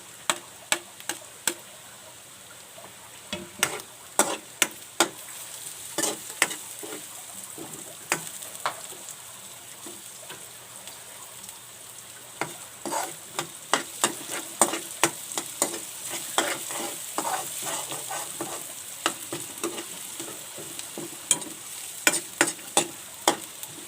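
Garlic and onion fry in a pan, a steady close sizzle broken by frequent sharp clicks and scrapes of stirring throughout, with no voices.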